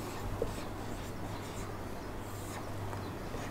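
Marker strokes squeak and scratch on a whiteboard during a reasoning class as numbers are written up, a steady faint rubbing with brief squeaks over a constant low room hum, no talking.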